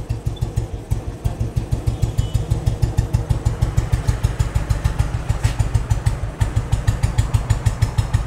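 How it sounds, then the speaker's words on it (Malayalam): A used motorcycle with a crank weight idles steadily after one kick, its loud, even exhaust thumps repeating close up for several seconds with a light mechanical clatter. "ഒറ്റ ചവിട്ടിന് വണ്ടി സ്റ്റാർട്ടായി."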